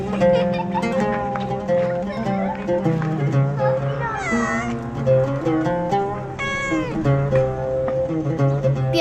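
A cat meows repeatedly in a drawn-out, pleading way while a voice talks over it, with a musical score underneath.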